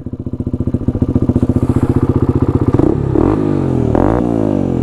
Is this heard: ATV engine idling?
yes